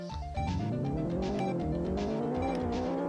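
Race car engines in the Atari Jaguar video game Checkered Flag rev and drone continuously, with steady buzzing tones that climb in pitch as the cars accelerate, loud and close alongside a looping electronic soundtrack.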